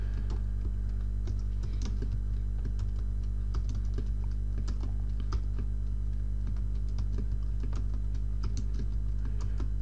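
Keystrokes on a computer keyboard during Go code editing, a steady run of light clicks and taps over a low constant room hum, with no speech.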